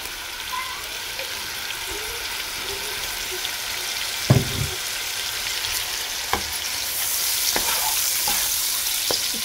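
Chicken pieces fry in a pan for pasta with a steady close sizzle, broken by a few sharp clicks and knocks of utensils against the pan, growing slightly louder toward the end.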